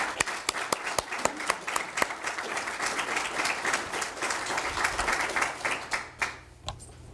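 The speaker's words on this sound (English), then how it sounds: "Please give me a round of applause to these people" Applause from an audience at an annual general meeting of a child advocacy centre, dense clapping with a few sharp, near claps standing out, fading toward the end.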